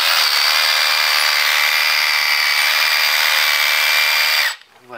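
A power drill fitted with a bit whines steadily and loudly at high pitch for about four and a half seconds while boring a hole to locate a septic tank, then cuts off abruptly.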